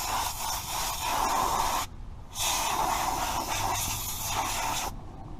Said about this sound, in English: so I'm just going to go ahead and spray it off with some air.